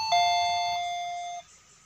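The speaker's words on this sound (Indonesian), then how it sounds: "Apabila penuh dan menyentuh air ke skrup, akan berbunyi seperti itu kawan-kawan." Electronic alarm on a water tank, triggered when the rising water touches a screw, rings out as a bright two-tone doorbell-style chime: one sustained electronic ding that holds steadily for over a second, then cuts off abruptly.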